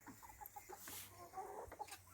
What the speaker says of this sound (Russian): пойду теперь выпускать цыплят